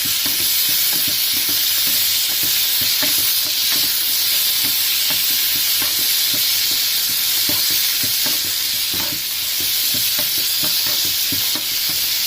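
Chopped tomatoes frying in a pan for hotel-style brinjal sambar give off a loud, constant hiss and sizzle, close up, with frequent small scraping stirs ticking through it.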